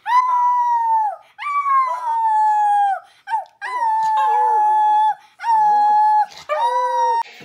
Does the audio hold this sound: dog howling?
yes